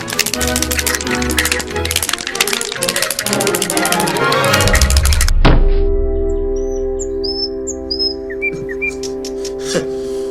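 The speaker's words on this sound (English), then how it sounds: "He's rattling his bones at me." A rapid clattering rattle of bones plays as a sound effect for several seconds and then cuts off, leaving sustained tones and a few faint chirps.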